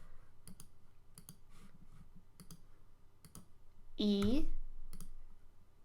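Sharp mouse clicks tick sparsely through a SketchUp drawing session while guidelines are placed on a 2D floor plan, sounding close and light, with a voice talking throughout and a louder spoken burst near the end.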